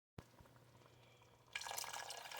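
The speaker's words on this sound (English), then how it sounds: "I'm going to add more water." More water is poured into a pot of chicken soup on the stove. After a low, quiet stretch, a steady, brighter rush of pouring liquid starts and keeps going.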